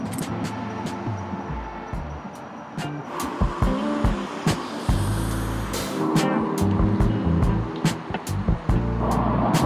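Cars on a freeway at night, a steady roar of passing traffic with repeated sharp whooshes as vehicles go by fairly close, busy and continuous.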